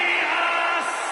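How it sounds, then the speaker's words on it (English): Arena crowd in the WWE 2K26 wrestling video game roaring and cheering during a superstar's ring entrance, a dense continuous wall of noise heard alone and fairly loud throughout. "Listen to the noise from this crowd."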